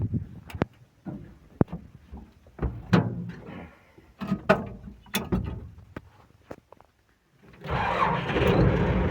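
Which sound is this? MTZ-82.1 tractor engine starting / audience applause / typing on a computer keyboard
MTZ-82.1 tractor engine starting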